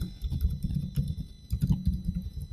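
Typing on a computer keyboard while writing HTML code, a steady run of quick key clicks with a few louder strokes, close and continuous with no talking.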